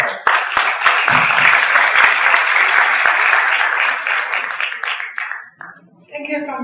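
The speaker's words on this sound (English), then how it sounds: "let's have a round of applause to the panel panelists for their insights" Audience applause for panelists at a leadership conference in Beijing, loud dense clapping that fades out near the end before a voice comes in.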